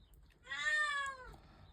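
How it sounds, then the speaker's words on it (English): A domestic cat gives a single clear, drawn-out meow that rises and then falls, close and moderately loud in a quiet room. "Sorry about my cat, folks"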